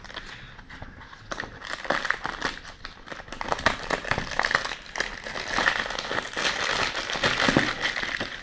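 Plastic bags of MyPolice KB0652 toy building blocks crinkle and rustle close by in a steady, busy stream with no talk.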